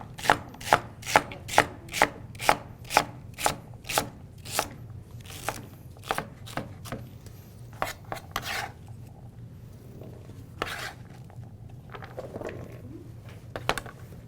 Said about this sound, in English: And you just want to chop it.